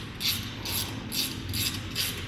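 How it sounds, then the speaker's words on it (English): Rapid metallic ratchet clicks in five short bursts, close and fairly loud, as a wrench tightens the connector plate of a TrailRax TRMR roof rack on an Ineos Grenadier. "go ahead and tighten down the connector plate first"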